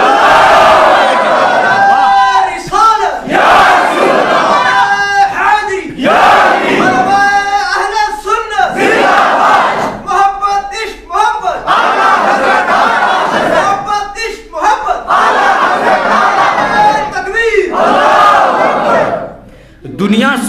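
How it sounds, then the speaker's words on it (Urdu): A large crowd at a mosque gathering in Kashmir roars a religious slogan in unison, loud repeated bursts of massed shouting rising and falling in waves across the whole stretch. "تو ایک بار وہی نعرہ لگا دو"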